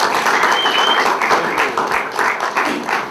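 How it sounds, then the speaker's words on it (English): A full audience applauds after a jazz bassist, Director of Bass Studies at the University of North Florida, is introduced at an October 2010 concert. The clapping is dense, steady and loud throughout, with a faint voice now and then. "Give him a round of applause"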